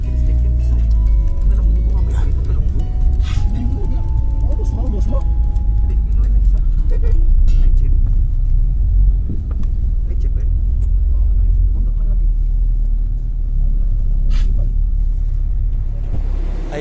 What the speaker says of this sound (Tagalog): Nandito na sa sasakyan.